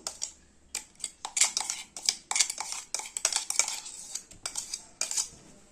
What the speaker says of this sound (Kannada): ಇದಕ್ಕೆ ನಾವು ಆವಾಗಲೇ ರುಬ್ಕೊಂಡಿರೋಂಥ ಮಸಾಲೆನ ಸೇರಿಸ್ತಾ ಇದ್ದೀನಿ